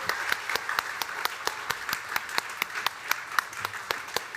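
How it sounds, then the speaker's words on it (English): An audience at a celebration evening gives sustained applause, with steady dense clapping and sharp individual claps standing out throughout, fairly loud and close. "help me give them a round of applause"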